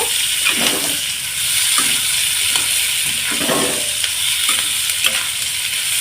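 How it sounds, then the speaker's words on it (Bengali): Potatoes, onion and green chilli frying in a pan, a constant hiss of sizzling overlaid with repeated scraping strokes as the mixture is stirred and tossed. "আর কিছুটা কাঁচা লঙ্কা কুচি দিয়ে দিলাম দিয়ে আবারও আলুর সাথে ভালোভাবে আমি কষিয়ে নেব"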